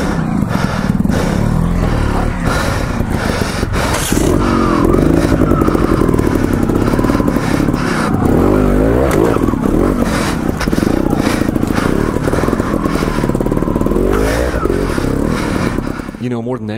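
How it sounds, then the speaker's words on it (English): Trials motorcycles climb a rocky trail, their engines revving and chugging continuously up close while tires and rocks scrape and clatter, with riders talking over the engine noise. "And obviously we're riding these trials bikes up this trail"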